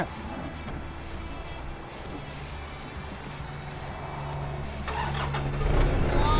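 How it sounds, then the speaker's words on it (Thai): A used Iseki 54 hp four-cylinder tractor with a front loader bucket cranks and fires up, its steady low engine rumble building louder toward the end as it catches and revs. "สตาร์ทติดง่ายนะครับ อันนี้นะครับเป็นรถ4สูบนะครับ"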